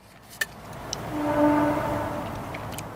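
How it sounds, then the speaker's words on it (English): A train passes in the distance near woods, its horn sounding a faint sustained blast in the middle that swells and fades, with a few sharp clicks early on over an outdoor background. "That's just a train."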